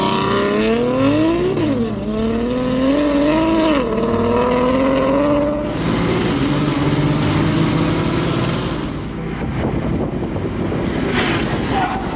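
BMW M3 drag car engine revving and accelerating hard, with a rising, sweeping engine note followed by a loud broadband roar and crowd or track noise, near and loud throughout.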